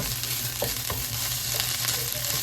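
Impossible plant-based ground beef frying in a pan, a loud steady sizzle up close with occasional stirring scrapes and a low background hum, no talking.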